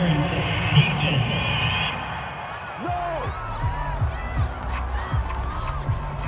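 The home crowd in an American football video game cheers a referee's call after an incomplete pass, a broad, steady roar that continues beneath commentators' talk.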